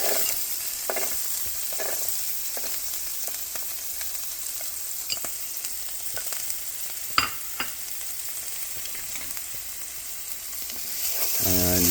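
Diced onion fries in hot oil in a pan for chicken with lemon pan sauce, a steady close sizzle with occasional clicks of stirring throughout and no talking.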